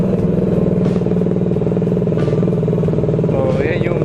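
A Motorstar Cafe 400 motorcycle engine idles with a steady, loud, close thumping rumble, while a person speaks over it.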